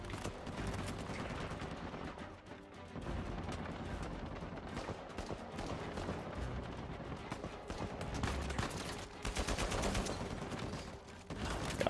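Steady heavy gunfire from the game Uncharted 4, with rapid automatic bursts and scattered shots running without a break, on a busy, dense bed of noise.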